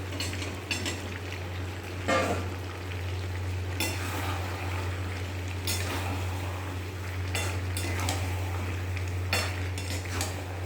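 Meat and potatoes stir-fry in a pan over raised gas heat, giving a steady sizzle under a constant low hum, with repeated spatula scrapes and clinks against the pan at irregular intervals.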